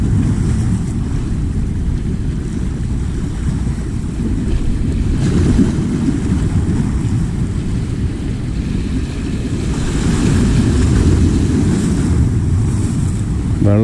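Harbour water in Kerala churns and laps as the tide falls, a loud, continuous wash of waves mixed with wind rumble on the microphone, nearby and unbroken with no talk.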